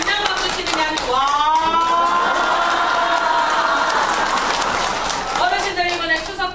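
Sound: audience clapping and shouting wa

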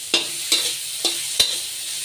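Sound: frying poha with salt in a pan

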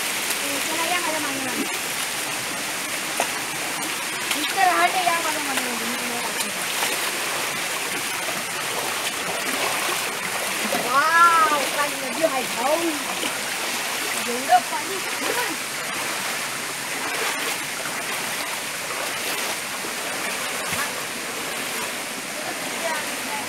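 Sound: water flowing through a dug water channel

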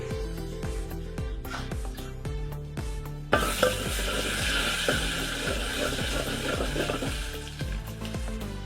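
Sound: grated coconut frying in hot oil

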